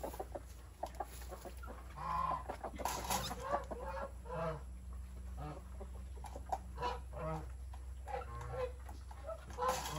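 Chickens cluck and murmur throughout, soft and fairly close, with scattered calls over a steady low hum.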